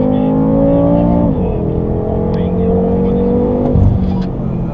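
A 560 hp BMW M6 Gran Coupé accelerating at full throttle on a race circuit, heard from inside the car as a loud, steady engine note that climbs in pitch between gear changes, with a voice speaking over it.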